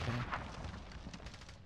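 A grenade explosion in Call of Duty: Modern Warfare, a quiet, muffled boom followed by a low rumbling tail and scattered distant gunfire-like thuds, heard alone without talking.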